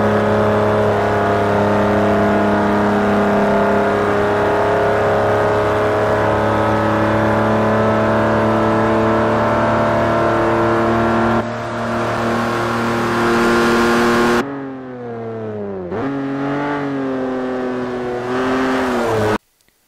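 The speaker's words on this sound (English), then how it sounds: "today we are doing a test lap with the 1960 Aston Martin DB4 GT Zagato from the Forza Motorsport 4" A 1960 Aston Martin DB4 GT Zagato in Forza Motorsport 4 drones loudly at high, steady revs through a test lap at Twin Ring Motegi, easing off once, then climbing through rising gear changes.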